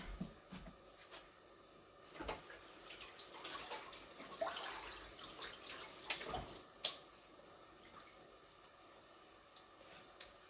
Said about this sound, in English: See the water dripping from it?